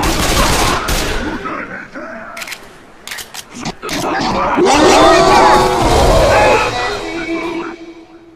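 Gunfire in the video game Left 4 Dead 2: bursts of rapid shots and sharp blasts mixed with game effects, loud and close, with people shouting and talking over it.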